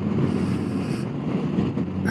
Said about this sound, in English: Down here in Tuckerton, a little windy.